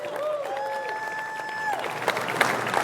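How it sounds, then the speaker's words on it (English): A keynote audience at a college fireside chat breaks into scattered clapping that builds in the second half, preceded by a sustained tonal whine, moderately loud in a large room. "that was a dramatic pause to allow you to clap for me"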